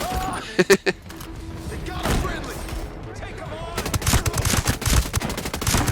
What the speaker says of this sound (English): they got artillery, like machine guns, like what is going on?